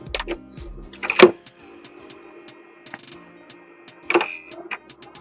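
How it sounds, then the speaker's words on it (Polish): An original Xbox disc drive failing to eject, making mechanical whirring with sharp clicks and two louder grinding clunks spaced a few seconds apart, close and alone without speech. "napęd nie chciał się wysunąć bardzo przy tym hałasując"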